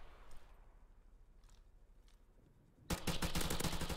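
Rapid automatic gunfire in the shooter game Modern Warfare Remastered bursts in suddenly and loudly after a few seconds of quiet background with faint clicks.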